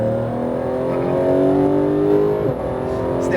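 A Porsche GT3 engine roars steadily at full throttle on a racetrack, its pitch climbing as it accelerates hard, loud and close throughout.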